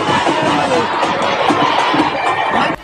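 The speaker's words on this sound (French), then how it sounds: "Une foule immense l'accompagne et chante son nom jusqu'à son domicile à Mermoz" A huge crowd in Mermoz chants Macky Sall's name, a loud, continuous roar of many voices that stays steady throughout.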